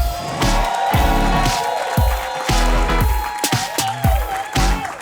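A comedy-show crowd cheers and makes noise for an act from Birmingham, Alabama, a loud mass of voices layered over a steady pulsing beat with repeated low thumps.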